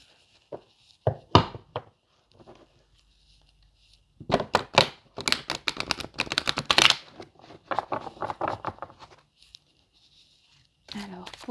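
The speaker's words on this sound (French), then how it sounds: "Je vais remélanger encore une fois." Tarot cards being shuffled by hand, bursts of papery riffling and tapping in short clusters with quiet gaps, close and moderately loud.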